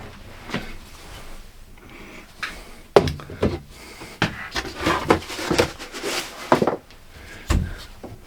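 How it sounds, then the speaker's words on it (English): Wooden knocks and a solid thunk as a door swings shut, followed by a flurry of bumps, rubbing and clattering handling noises nearby. "So we can close that door."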